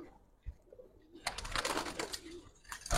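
Cooing from old-breed Giribaj pigeons, Dhaka high-flyer stock, sounds as soft low coos and a few wing or shuffling noises, growing busier in the second half with clustered bird calls and no talking.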